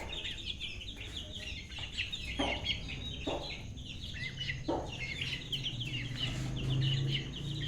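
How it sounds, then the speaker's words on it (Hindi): Small chicks and chickens in a kid's backyard bird setup give continuous high peeping and soft clucking, steady and moderately close, with a few short louder calls and light background noise. "ये हैं इधर चूजे।"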